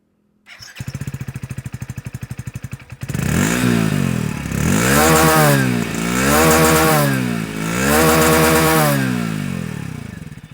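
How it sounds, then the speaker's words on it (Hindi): A 2025 Hero HF Deluxe Pro motorcycle engine starts and idles with a rapid putter, then revs up loudly three times, each rise and fall of the exhaust clearly audible. "आपको इसका एग्जॉस्ट नोट सुनाता हूँ"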